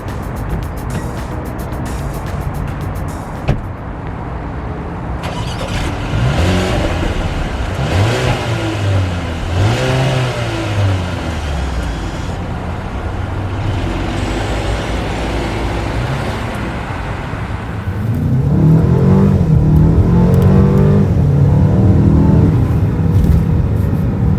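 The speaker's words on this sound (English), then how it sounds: "let's take the 2020 Mercedes-Benz GLB 250 for a spin" A 2020 Mercedes-Benz GLB 250 compact SUV drives and accelerates: engine tone rises and falls through the gears over steady road and tyre noise, growing louder and fuller toward the end.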